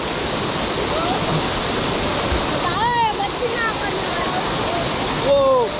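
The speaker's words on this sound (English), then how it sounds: "Whoa! Look! Waterfall!" A waterfall on a river in Kosrae pours as a steady, loud broadband rush throughout, with excited voices and children calling out over it.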